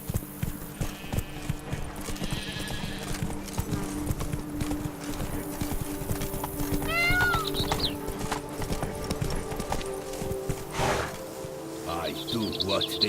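Horse hooves clip-clopping in The Witcher 3: Blood and Wine, a rhythmic drumming of hoofbeats throughout with game music, a brief whinny and voices talking over it.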